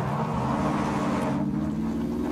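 A video game car engine hums steadily throughout, a continuous mid-level motor drone with no clear revving peaks and no voices.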